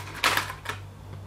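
Colored pencil scratching across paper while coloring in a letter: a few short, dry scratchy strokes over a low steady electrical hum, close and fairly quiet.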